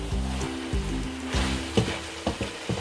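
San Choy Bao filling sizzles in a pan while a spoon scrapes and stirs it in several quick, uneven strokes, close up over a low background hum.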